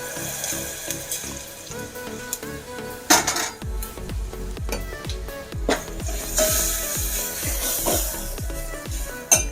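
Soaked gram flour batter with turmeric being stirred in a pot for buttermilk kadhi, a spoon scraping and clinking against the pot in a steady rhythm of repeated strokes, close up with no talk.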